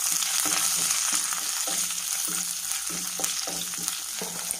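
Ginger, garlic and green chilies fry in hot oil with a constant bright sizzle, and soft rhythmic stirring taps against the pan run through it.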